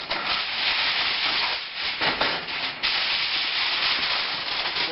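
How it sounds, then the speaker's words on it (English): Aluminium foil pulled off a roll to line a broiler pan gives a close, continuous crinkling hiss for several seconds, with a brief louder rustle partway through and no voices. "I'm going to line that with some foil"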